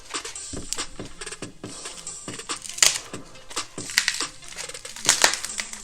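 A mailed package is cut open up close: dense crackling and crinkling of packing material, with scraping and small sharp snaps throughout and no voices.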